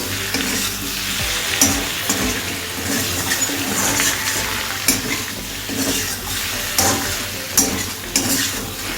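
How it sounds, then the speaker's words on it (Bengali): Shrimp and Malabar spinach greens frying with spices in a pan, a continuous loud sizzle broken by repeated stirring scrapes and knocks of a utensil, close up with no talking. "এবার মশলার সাথে ভালোভাবে মিশিয়ে নিচ্ছি"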